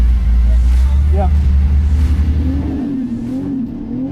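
A Nissan R32 GT-R roars under hard acceleration on a race run, a loud, deep engine drone for the first few seconds that then drops away, with people talking over and after it.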